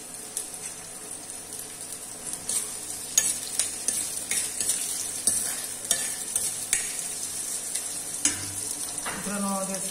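Onions sizzle and fry in hot oil in a pan, a steady crackling hiss with scattered sharp pops and occasional stirring scrapes, close and fairly loud throughout; no one talks.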